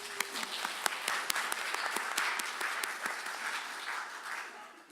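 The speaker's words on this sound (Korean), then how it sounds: "우리 어린이들을 위해서 축하와 사랑의 격려의 박수를 한번 보낼까요?" A church congregation applauds for the children on Children's Sunday, steady clapping from many hands filling the sanctuary with a few sharper claps standing out, no talking over it.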